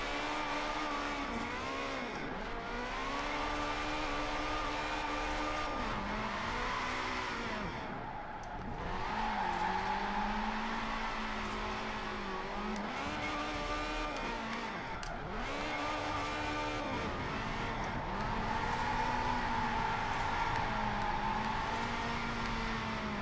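A drifting car's engine revs hard and steadily, rising and falling in long sustained pulls with brief dips between them, loud and close, with a light hiss beneath.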